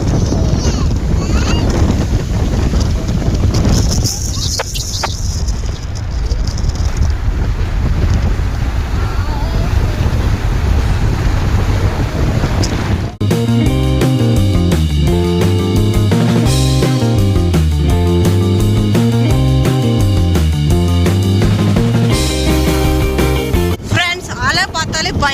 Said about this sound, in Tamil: எப்படி அலை வந்துட்டு பாருங்க